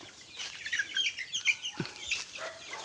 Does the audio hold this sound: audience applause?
no